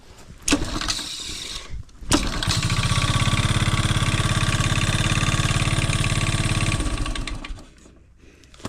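Three-wheeler engine cranked by its starter, catching after a couple of short attempts and then running at a steady, loud buzzing idle for several seconds before shutting off.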